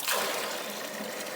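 Water rushes steadily from a home car wash system, a broad hissing spray that stays even and fairly close for a brief moment.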